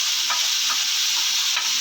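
Ginger garlic paste, chili powder and salt sizzle in a hot pan while being stirred, a constant close frying hiss with a few soft scrapes of the spoon.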